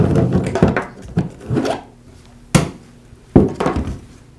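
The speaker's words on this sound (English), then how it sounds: "I'll begin by removing the router motor from the router's base." A Porter Cable router motor is worked loose from its base, with close, loud clunks, knocks and scraping of metal housing in several separate bursts with pauses between.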